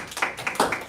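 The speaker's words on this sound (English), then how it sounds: "let us all give a round of applause to our wonderful speaker, Priscilla Kim" A seminar audience gives a handful of quick hand claps for the speaker. The claps are sharp and scattered, several in about a second, fairly close and with no voices over them.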